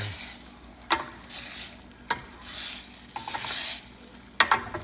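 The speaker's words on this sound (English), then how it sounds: "stir it again" Chicken pieces in a pot of tamarind soup are stirred, with several sharp clinks of a spoon against the pot over a soft sizzle and brief scraping swishes, close by.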